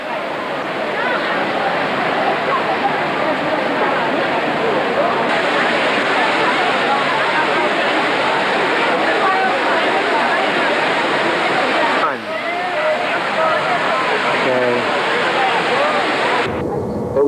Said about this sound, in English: they finally finally made it to Fontana Trevi